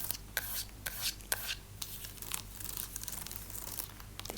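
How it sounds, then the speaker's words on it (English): Dry, rapid scratching and rubbing against a hard surface, up close and continuous, with sharp crinkly bursts and no talking. "This is obviously just scratching there."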